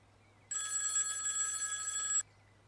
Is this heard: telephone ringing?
yes